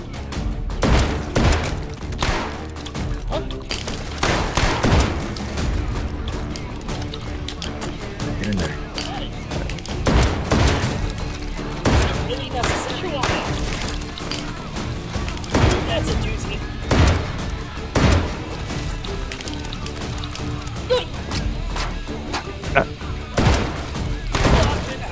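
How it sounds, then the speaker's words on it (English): Repeated sharp, booming shotgun blasts fire in the VR shooter H3VR. They come in irregular bursts over a constant din of game noise, with a voice talking between some of the shots. "this is where the shotgun comes in handy"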